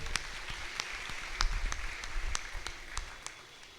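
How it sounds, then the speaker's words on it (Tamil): A church congregation at a Catholic mass clapping to cheer young helpers, a short burst of scattered, reverberant applause with individual claps standing out, moderately loud in a large hall. "அந்த வாலிப பிள்ளைகள் கைத்தட்டி உற்சாகப்படுத்துங்க"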